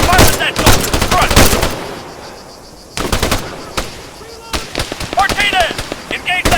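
Bursts of rapid machine gun fire in the video game ARMA III, loud and close, several long rattling volleys separated by short gaps, with shouted combat callouts over the gunfire.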